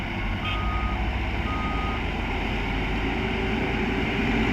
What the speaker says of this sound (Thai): มาเบิ่งการถอยครับ